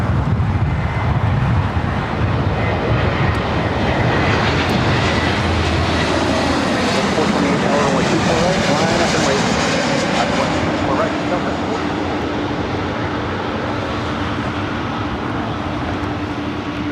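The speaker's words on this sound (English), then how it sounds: "That A321 Neo with Delta is our next arrival." A Delta Airbus A321neo arriving at LAX roars overhead, a loud broadband engine rush that swells, sweeps past and slowly fades, with no voices.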